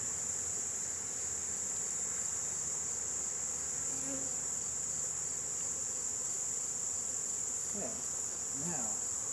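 Honey bees buzz around a hive in a steady, dense outdoor drone that holds at an even level throughout, with a few faint closer passes.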